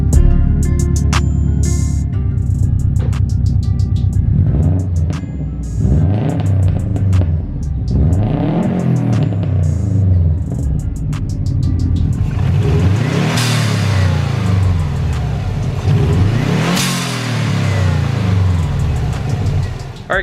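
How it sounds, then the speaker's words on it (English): A 2004 Subaru WRX Impreza STI engine revs repeatedly, sweeping up and falling back in several loud blips over a steady idle rumble, with some talk over the start. "we'll give her a couple of revs"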